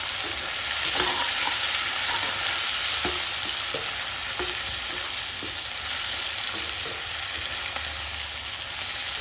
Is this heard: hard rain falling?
no